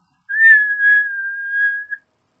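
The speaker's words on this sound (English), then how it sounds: "There was a whistle behind them." One steady, high-pitched train whistle held for about two seconds, clear and close, with nothing else around it.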